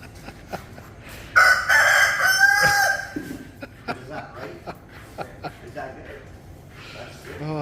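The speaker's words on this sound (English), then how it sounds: "There's a rooster in the restaurant." A rooster crows loudly inside a restaurant in Asia, one long crow near the middle, with people talking and chuckling around it and clatter in the background.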